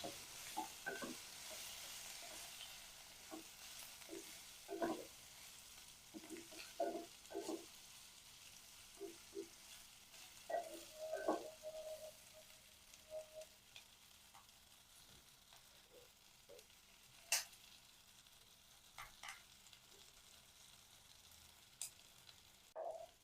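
Veg liver fry being stir-fried with spinach in a pan, with soft stirring scrapes and light sizzling spread through the whole stretch, faint and fairly quiet with no talk.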